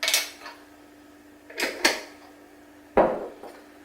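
A rounded teaspoon of Rapidura sweetener goes into a cup, giving a few close, sharp clinks of spoon against ceramic in three separate bursts, with quiet gaps between them and no talking.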